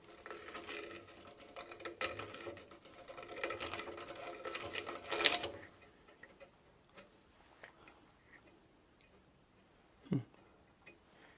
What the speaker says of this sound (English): That took a while, but I finally found my deburring tool.